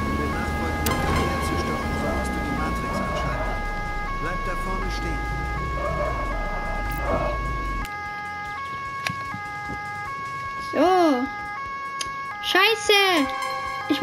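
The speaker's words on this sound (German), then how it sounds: "Ich muss doch eigentlich die Sirene noch ausmachen" A police car siren in the Autobahn-Polizei Simulator 2 video game wails in a repeating two-tone pattern. It sounds loud over road noise at first, then continues alone, with someone briefly talking and other sounds sweeping past near the end.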